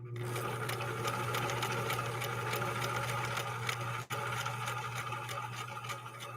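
A 1963 Husqvarna Viking 19E sewing machine, fitted with a Schmetz double eye needle, drives through saddle grade leather. It runs in one continuous, even, rapid stitching drone, close and moderately loud, with a brief catch near the end.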